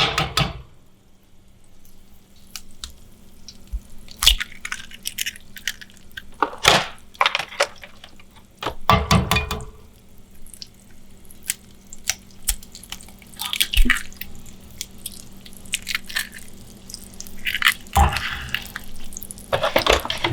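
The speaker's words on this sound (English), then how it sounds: "after you actually crack the eggs into the pot" Eggs cook in a pot for a naan breakfast sandwich, giving off irregular pops, sputters and wet crackles over a low, steady background hum.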